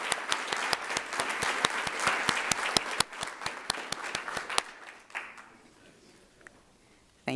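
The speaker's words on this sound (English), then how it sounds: "let's give these students one more round of applause" Audience at a school board of education meeting applauding students, dense clapping for about four and a half seconds that thins and fades into near quiet.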